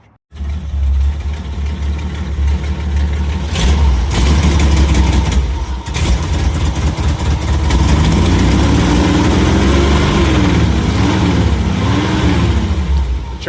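A Jeep engine runs loud and close after being started again. It rumbles steadily at idle with a slight rise and fall in revs and a few louder surges, and there is no talking.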